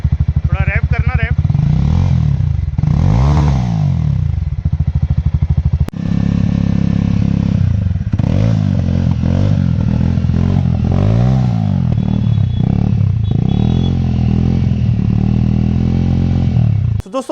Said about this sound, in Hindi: तो चलिए सुनते हैं रेजर एग्जॉस्ट और वेनम एग्जॉस्ट की साउंड।